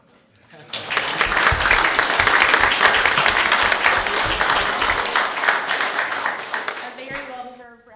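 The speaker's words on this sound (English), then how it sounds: "A very well-deserved round of applause." Audience at a town council meeting breaks into sustained applause for local Main Street champions, a dense, steady roar of clapping lasting several seconds before tapering off as a voice begins.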